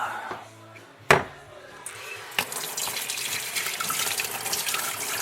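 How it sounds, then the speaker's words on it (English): Water running into a dirty workshop sink during Triumph Spitfire cylinder head work: a couple of sharp knocks, then a steady rushing splash that grows and fills the space, close and fairly loud. "So I'm going to put some water in that."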